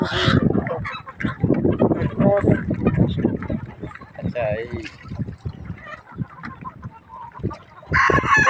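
Chickens cluck and call in the background of a poultry farm while people talk over them; the birds stay faint beneath the conversation throughout.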